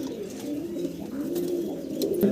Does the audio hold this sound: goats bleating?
no